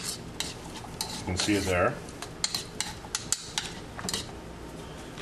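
A spoon stirs a seasoning mixture of salt and pepper in a bowl while Copper River sockeye cooks, producing close metallic clinks and a brief scraping swirl, with a short spoken remark over it.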